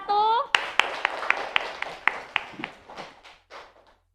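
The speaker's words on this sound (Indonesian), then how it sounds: "Tepuk tangan untuk kelompok 1." A short spoken phrase, then a small group of students in a classroom clapping in a quick, uneven rhythm of about a dozen claps that trail off and grow fainter.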